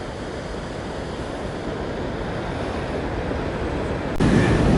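Seaside waves roll in at Casablanca, Morocco, a steady wash of surf with some wind, growing slightly louder and rougher near the end.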